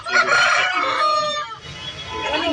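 A country rooster at a poultry market crows loudly and close by, one long drawn-out call followed by softer clucking.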